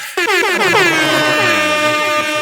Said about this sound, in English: Air horns all over the...